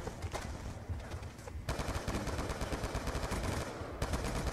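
Rapid automatic gunfire from the Call of Duty Black Ops 2 video game crackles in dense bursts, loud and sustained, with a short lull before the shooting resumes.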